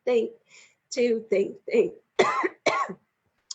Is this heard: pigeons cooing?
no